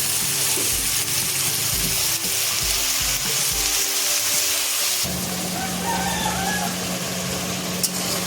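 Spoon scrapes and sizzling in a pan of mushroom curry give way to a sudden, steadier rushing hiss as water is poured in, continuing close and loud to the end.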